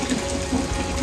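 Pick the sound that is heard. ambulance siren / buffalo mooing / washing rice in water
washing rice in water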